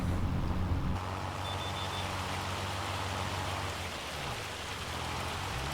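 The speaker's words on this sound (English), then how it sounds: "So I think this is actually hail." Heavy hail falls in the farming game Farming Simulator 25, a dense, steady patter that rolls on without a break, joined at first by a low engine rumble that drops away after about a second.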